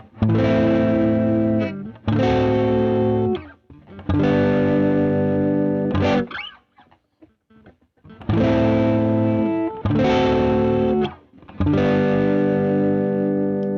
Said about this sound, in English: If I switch it to the middle position, so now it's laying dead center, then you're going to hear the sound on both pickups